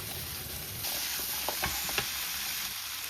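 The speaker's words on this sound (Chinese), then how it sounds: "接着我們就下入雞爪、土豆還有西紅柿哈，然后給它翻炒均勻" Chicken feet, potatoes and tomatoes stir-fried in a hot wok, giving a steady close sizzle throughout, with a few scraping stirs and clacks of the spatula partway through.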